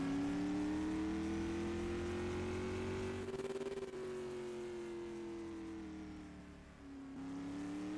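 A supermodified race car at Oswego Speedway, the Docker Titanium Roadster, laps the oval with a loud, sustained engine note that rises and falls steadily through the corners, with a brief dip near the end as it backs off.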